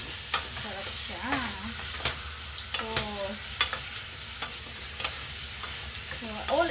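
Beef sizzles in olive oil in a pan, a steady hiss running throughout, broken by sharp scraping clicks as a utensil stirs the meat several times.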